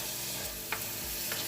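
Ombidi, Namibian wild spinach, is stirred in a hot, sizzling pot, with a steady close crackle of frying broken by two brief scraping strokes of the spoon. No voices.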